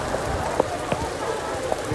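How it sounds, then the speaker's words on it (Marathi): Heavy monsoon rain in Navi Mumbai and Panvel hisses steadily, a dense continuous wash with scattered drops and spatters, no voices. "तर नवी मुंबई आणि पनवेलमध्ये मुसळधार पाऊस झालेला आहे"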